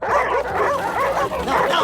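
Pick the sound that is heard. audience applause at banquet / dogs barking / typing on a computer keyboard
dogs barking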